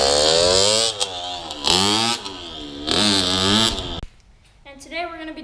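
A 2006 Suzuki RM65 two-stroke 65cc motorcycle engine revs hard in loud, rising bursts, three sharp surges cut by brief drops, then it falls to a lower buzzing idle.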